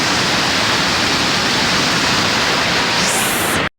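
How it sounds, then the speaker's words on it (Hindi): A river near Kedarnath rushes loudly close by, a dense, steady roar of turbulent water that holds without a break before cutting off abruptly at the end. "मेरे से भी तेज़ तो पानी की आवाज़ आ रही है, पानी की छींटें ऊपर तक आ रही हैं"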